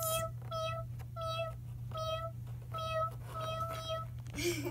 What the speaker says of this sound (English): I'll just stay here and take care of your little cat, Muffin.